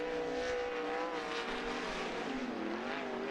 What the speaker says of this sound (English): Third and final 8-lap heat race for the Interstate Sprint Car Series as they wind it up